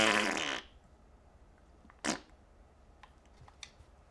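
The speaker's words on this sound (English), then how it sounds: "Fart noise." Fart noise sound effect during a Rain World livestream, a short brassy burst at the start followed by quiet with a couple of faint clicks.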